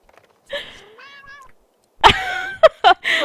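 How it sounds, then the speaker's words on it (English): A pet cat in The Sims 2 gives several loud meows, some drawn out and some short and clipped, with brief pauses between them. "that kitty is so loud"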